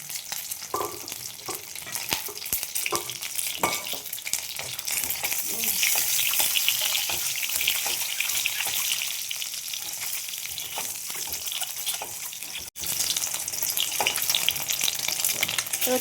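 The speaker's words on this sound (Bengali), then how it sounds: "ডিমগুলো ভেজে নেব।" Eggs frying in a hot pan for a Bengali spiced egg curry, giving a steady, loud, close sizzle that runs continuously with small crackling pops and no talking.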